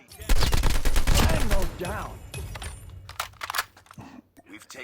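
Sharp reports from an ASM10 assault rifle firing in two-round bursts in the game CoD Mobile, a cluster of rapid cracks followed by scattered single shots, heard under a voice talking.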